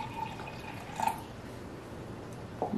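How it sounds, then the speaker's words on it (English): Water is poured into a homemade self-watering plant pot, giving soft trickles and a couple of brief drips and splashes that sit low against quiet room noise. "we're going to pour our water in."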